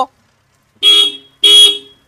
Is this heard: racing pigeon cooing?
no